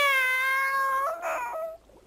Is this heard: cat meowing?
yes